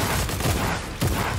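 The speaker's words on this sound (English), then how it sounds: "Stinger SMG. We got ranged ones now." Stinger SMG firing in a video game: a loud, fast burst of rapid shots lasting just over a second, with a heavier thump near the end.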